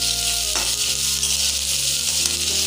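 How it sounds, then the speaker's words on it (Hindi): Potatoes frying in a pan for a prawn and potato sabzi, a steady loud sizzle running throughout with a few scraping knocks of stirring, no one speaking. "इसमें हम डाल देते हैं आलू इसे चला लेंगे"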